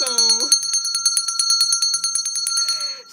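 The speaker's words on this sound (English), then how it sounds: "we gotta ring the bell to that" A small bell rings in a rapid, steady trill of bright metallic strikes, loud and close, after a brief sung vocal tone at the start, fading as a voice begins at the end.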